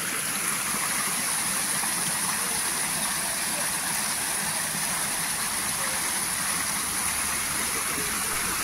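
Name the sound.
Tai Shui Hang waterfall and stream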